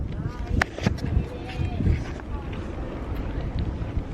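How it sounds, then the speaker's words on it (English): Strong wind at an open RV boondocking site at Nomad View buffets the microphone in steady low rumbling gusts, with a voice talking faintly underneath. "It is so windy here."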